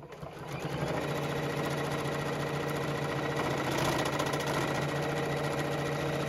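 A JUKI sewing machine stitches a tote bag, its motor ramping up then holding a fast, even mechanical whir and needle chatter, close and continuous.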